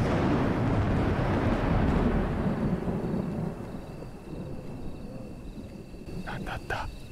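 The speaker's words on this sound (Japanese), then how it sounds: "いきなり嵐" A sudden thunderstorm in the horror video game Perdita, heavy rumbling thunder and steady rain that ease off over several seconds, with brief faint tones near the end.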